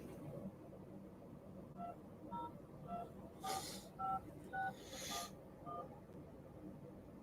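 Telephone keypad tones come down a phone line from an unknown private-number caller, a sequence of about ten short beeps in irregular rhythm over a low hiss.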